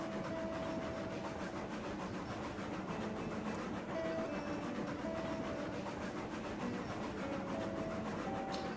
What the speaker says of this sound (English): So the caboose just derailed.